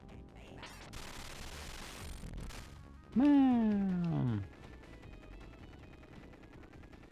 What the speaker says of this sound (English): I do like the style of explosion sound effects versus NES Contra